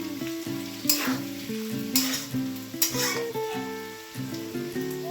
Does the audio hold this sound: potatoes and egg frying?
yes